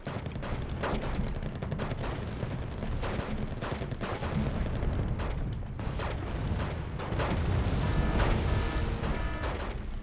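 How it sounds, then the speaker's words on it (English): Dense, continuous rumbling barrages of bombs and gunfire in Wargame: Red Dragon, with rapid crackling explosions and heavy low thuds layered thickly at steady loudness over ten seconds. "Alright, time for bombs."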